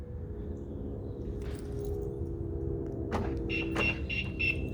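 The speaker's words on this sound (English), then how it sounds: "see it's giving us several bleeps and several flashes to say we've left a door ajar" A Starline S9v2 alarm fitted to a Renault Trafic van warns of a door left ajar with a quick series of short, high electronic bleeps near the end, over a steady low background hum.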